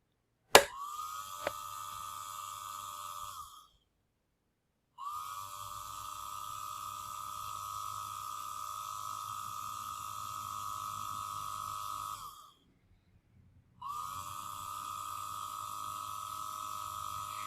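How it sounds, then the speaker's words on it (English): A small electric motor driven by an external power supply in an Arduino speed-control setup whirs with a steady high-pitched hum, running in three separate bursts broken by short pauses, with a sharp click as it starts. "now turning on the power supply, external power supply to the motor"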